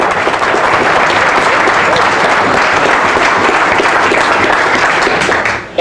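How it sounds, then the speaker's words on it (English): Audience at a D-Day 75th anniversary museum symposium breaks into loud, sustained, dense applause that holds steady for several seconds before cutting off abruptly at the end. "A big cheer for the girls."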